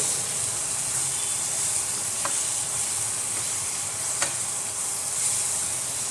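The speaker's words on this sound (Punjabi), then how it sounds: "ਤੇ ਆਪਣਾ ਤੜਕਾ ਭੁੰਨ ਕੇ ਤਿਆਰ ਆ" A tempering of ginger and green chillies sizzles steadily in a pan for dal, a bright continuous frying hiss with a couple of faint clinks of stirring.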